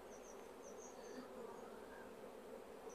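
Honeybees buzz in a steady, dense drone around an agitated hive during swarm-control splitting, the hum continuous and fairly close with no talking over it.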